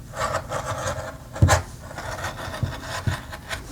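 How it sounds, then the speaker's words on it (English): Pinking shears trim the seam allowance of freshly sewn dress fabric, giving a series of close, crunchy rasping snips in an uneven rhythm, with one stronger cut partway through. "I'm going to use my pinking shears again to give it a trim."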